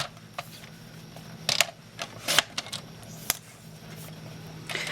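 Paper is cut for a handmade photo frame, giving several brief, crisp snips and clicks in an irregular rhythm. They are close and moderately loud over a quiet background hum.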